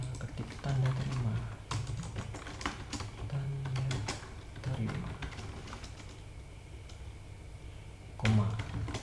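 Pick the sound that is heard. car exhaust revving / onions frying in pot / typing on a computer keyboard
typing on a computer keyboard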